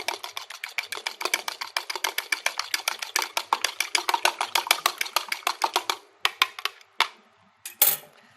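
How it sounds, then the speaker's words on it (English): An egg is beaten with a whisk in a bowl to make egg wash: rapid, even metallic clicks and taps for about six seconds, then a few slower scattered strokes, close and fairly quiet. "So break the egg. We're going to give it a whisk."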